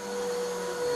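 A portable vacuum cleaner draws up dry soil from a bedroom carpet in a house, its steady motor whine holding close and loud for the whole second with a constant tone and no talk.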